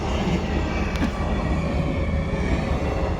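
A train rumbles past a railway level crossing, close and loud, with dense low rolling noise and steady wheel clatter throughout, no voices over it.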